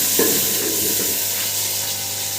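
Ground onion sizzles and crackles in a hot pan, a steady, close frying hiss with a brief stirring scrape near the start.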